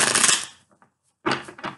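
Tarot cards are shuffled by hand in two quick bursts of crisp riffling and slapping, close and fairly loud, separated by a brief pause.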